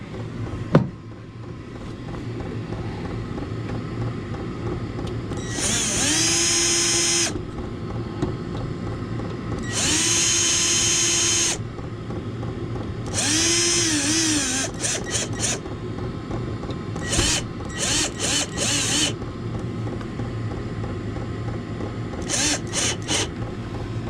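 A power drill with its torque setting turned down drives in a shed: several separate short whirring bursts, followed by quick runs of sharp mechanical clicking, close and fairly loud over a steady background hum.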